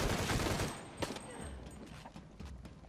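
Gunshots in Shadow of the Tomb Raider, a dense burst of firing at first, then a few separate sharp cracks spaced out over a quieter background.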